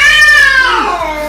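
A loud, close meow from an agitated house cat in Guadeloupe, a single drawn-out call that slides downward in pitch and fades at the end.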